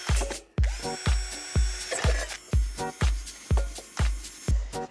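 A power drill whirs in a series of short, rhythmic bursts drilling holes in wood, each with a heavy low thump, close up and loud.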